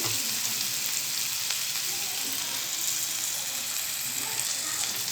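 Tomatoes fry and soften in a pan for an ivy gourd stir-fry, giving a loud, continuous hissing sizzle close by with faint stirring noises beneath it.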